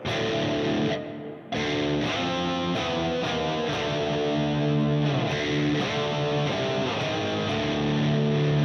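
Distorted electric guitar plays sustained chords through a stereo dynamic hall reverb with a wide, spacious tail, loud and continuous after a brief dip near the start.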